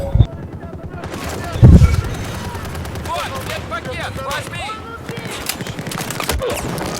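Gunfire in the video game Battlefield 4: a few sharp shots and bursts ring out over a steady battlefield din while someone talks throughout.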